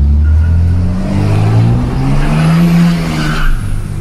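A Ford F1000 pickup fitted with a Dodge Ram engine of about 600 hp revs hard, its deep, loud engine roar rising and falling with a turbo whine over it, close up and continuous.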